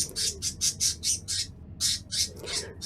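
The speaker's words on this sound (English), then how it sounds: "My birds are very vocal. Extremely vocal." Loud, harsh bird squawks in a video game repeat in a quick series, a pause, then a few more calls, up close and with no talk.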